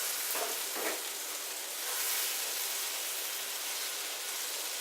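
Close, continuous sizzling of spiced potatoes and peas in a frying pan, a dense crackling hiss with a couple of brief stirring scrapes near the start.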